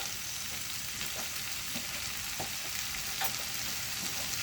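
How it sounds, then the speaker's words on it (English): Chicken jalfrezi fries in a pan, giving a steady soft sizzle broken by occasional light scrapes and clicks as it is turned. No one speaks. "Just turning regularly, because this does stick to the pan a bit."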